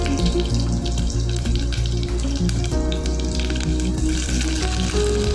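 About ten small shallots sizzle and fry in a pan for mor kuzhambu, a dense, steady hiss and crackle that runs loud and close the whole time.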